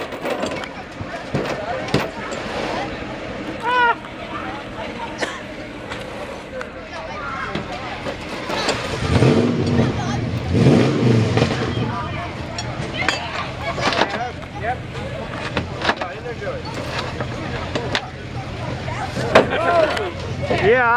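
Ford truck engine revving hard through a mud bog at a spring event, a broad low roar swelling loudest midway with sharp bursts, under crowd chatter and shouting throughout.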